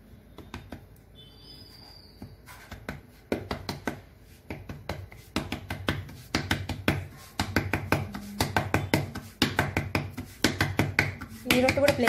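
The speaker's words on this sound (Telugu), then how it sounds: "ఇట్లా రొట్టెని ఈవెన్గా కొట్టుకోవాలి" Hands pat and slap ragi roti dough flat, a run of soft rhythmic taps that grows denser and louder toward the end, close by, with someone talking over it.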